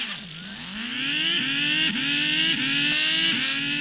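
A car engine in the video game Dude Theft Wars revs repeatedly, its pitch climbing and dropping in several quick surges, loud and close with no talking.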